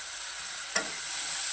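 Toor and moong dal with spinach are stirred in a frying pan, a steady soft sizzle with one sharp scrape of the spoon partway through, close and alone.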